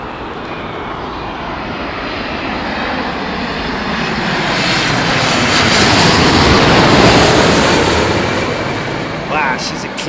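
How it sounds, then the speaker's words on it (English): A Boeing 787 Dreamliner passes at Heathrow with a broad, swelling jet roar that builds and peaks around the middle before easing off, loud and close, with a few voices underneath. "Wow, she's a clean Dreamliner, man."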